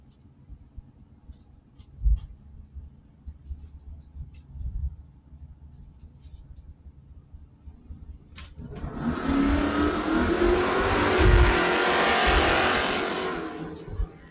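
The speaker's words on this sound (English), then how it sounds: "Mustang trying to catch the satellite. Doesn't get there." A 1967 Satellite and a 1988 Mustang drag race down a strip: quiet idling rumble with a few knocks, then a sudden loud, roaring launch that holds at full power for several seconds.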